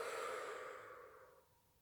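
A long, soft exhale during a breathing posture in a chest-opening exercise, a steady airy breath that starts strong and slowly fades over about two seconds, heard alone without talk.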